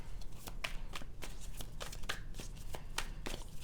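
Tarot cards shuffled by hand during a reading, a steady run of crisp riffling flicks and soft slaps repeating through the clip, close and fairly loud with no talking.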